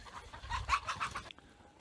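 Chickens cluck and squawk in a short agitated burst, close by, chased by a remote-control car, then fall quiet.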